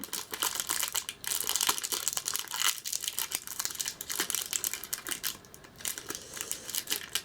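A NihonBox subscription box package, the January 2017 edition, is torn open and unwrapped up close. Continuous crinkling and crumpling of wrapping is broken by sharp tearing bursts and rustles.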